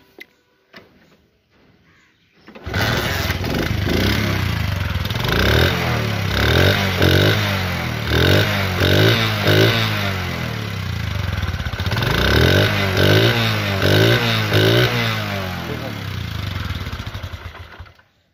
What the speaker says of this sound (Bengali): এখন আমি আপনাদেরকে দেখাবো বাইকটির সাউন্ড